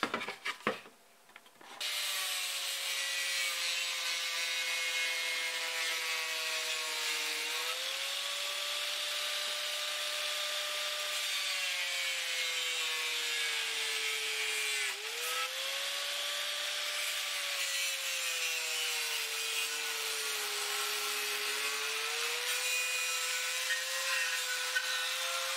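An angle grinder's cutting wheel slices through a mountain bike helmet with a steady, continuous high whine and gritty rasp, after a short clatter at the start, sustained for over twenty seconds, close and loud, with slight pitch dips as the load shifts.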